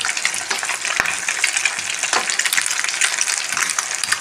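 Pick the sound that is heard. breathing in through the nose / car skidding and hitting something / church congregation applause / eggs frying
eggs frying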